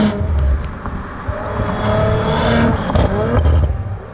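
A turbocharged engine on a 2018 Audi RS5 revs loud and close, with a throaty, gargling roar that rises and falls throughout, without any talking.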